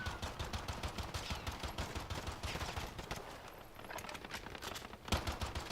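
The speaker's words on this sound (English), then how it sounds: "They're also shooting." Rapid video game gunfire crackles in dense automatic bursts throughout, loud and continuous with a brief lull before a sharp burst near the end, no voices.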